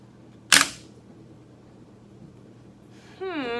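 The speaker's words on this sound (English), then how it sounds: "Tape dispenser. When you heard that sound, did you think, oh, it's a tape dispenser." A tape dispenser dropped onto a surface in a first-grade classroom listening lesson. A single sharp clack is followed by quiet room tone, and a brief higher sound comes at the end.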